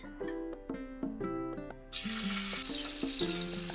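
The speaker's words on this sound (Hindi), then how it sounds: "पनीर को भून लेंगे।" Paneer cubes fry in about two spoonfuls of hot oil in a pan, steady sizzling with a sudden louder burst of spattering midway, plus tonal clinks and scrapes close by.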